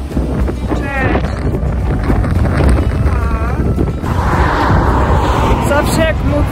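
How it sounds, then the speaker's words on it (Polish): Wind gusts outdoors on a walking trip between Chesterfield and Derby in England, buffeting the microphone with a loud, rough rumble while someone talks over it, with a vehicle passing faintly nearby. "Mówiłam, że nie było wiatru, a teraz trochę wieje"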